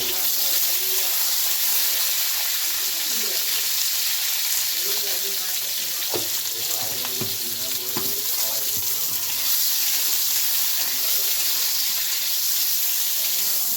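Eggplant frying in hot oil for shukto, a steady bright sizzle with occasional clinks and scraping of a utensil in the pan, close and continuous.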